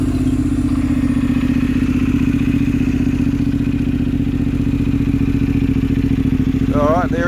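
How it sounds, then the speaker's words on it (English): A Honda NC750X motorcycle engine runs close by with a steady, even, low idling rumble that holds throughout. "let's start things up. Check this out when the bike comes on."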